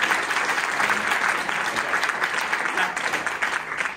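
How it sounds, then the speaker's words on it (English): A crowd at a legislative press event in Lansing, Michigan, claps in a steady, moderately loud round of applause lasting the full few seconds, with no talking over it. "a round of applause for her as well"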